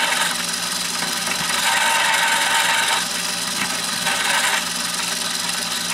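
A drill bit opens up the primer pocket of a brass cartridge case during reloading with a Lee Loadmaster press: a steady, close-up rasping grind runs for about six seconds, with slight surges in intensity and no talking.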